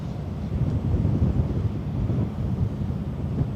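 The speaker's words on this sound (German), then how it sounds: "Das ist aber doof, weil von rechts der Wind kommt." Steady wind buffeting the microphone on the deck of the AIDAprima cruise ship sailing out of a Norwegian fjord, a continuous low rumbling roar with no voices.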